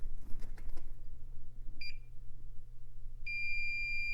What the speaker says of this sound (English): swipe across the top of the ribbon cable here until you hear a beep